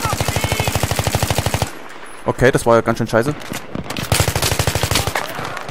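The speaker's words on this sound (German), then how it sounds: "Schlagen die ganze Zeit immer so ein paar Schüsse ein, aber ich raff nicht von wo." Rapid automatic gunfire from a Battlefield 3 match rattles in dense bursts at the start and returns near the end, with someone speaking German over a brief quieter stretch in between.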